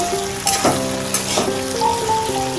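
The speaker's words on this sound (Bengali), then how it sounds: "এবারে আলুগুলো দিয়ে দেবো, আর আলুগুলোকে সুন্দর করে ভেজে নেব" Potatoes sizzle in hot oil in a pan with already-fried onions, a loud steady crackle broken by a few sharp stirring scrapes and clinks, close up and with no voices.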